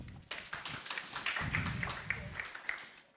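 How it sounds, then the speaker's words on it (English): Scattered audience clapping at a morticians' scientific conference, fairly faint and a little uneven, individual hand claps audible within a short round. "Let's clap for these people."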